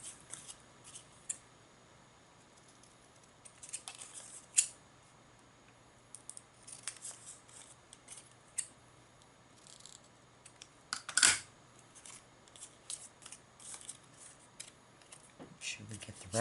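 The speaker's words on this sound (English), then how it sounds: "Cut our little tabs. Don't cut the score line." Scissors snip out small paper tabs for a clockmaker craft, quiet close crisp cuts scattered irregularly, with a few louder snips amid faint background noise.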